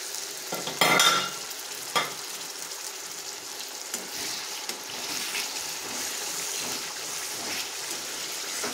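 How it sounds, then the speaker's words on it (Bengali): Fish-roe fritter curry masala sizzling in a pan after a little water goes in, with a burst of hissing near the start, then steady frying crackle and occasional stirring scrapes, close and alone. "এবার দেবো অল্প একটু জল"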